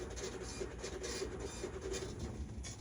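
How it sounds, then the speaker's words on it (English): An Epson ticket printer runs through a print job, a quiet steady mechanical whir with faint rasping and scratching as the paper feeds, heard alone. "That would be the Epson ticket printer."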